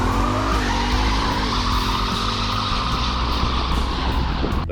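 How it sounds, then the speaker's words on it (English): A Ford Mustang roars along the road with a loud, sustained engine note and tire noise, its pitch rising and falling as it drives past without talk. "The Mustang is loud."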